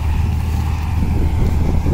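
A combine harvester cuts wheat in a field, its engine and threshing machinery giving a loud, steady, broadband rumble throughout with no pauses.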